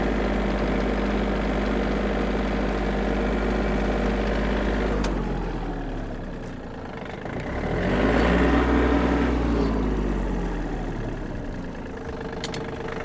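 A Yanmar RS-240 mini tractor engine idles steadily up close, a low diesel rumble with an even beat that softens briefly and then swells again as if the engine load or the listener's position shifts.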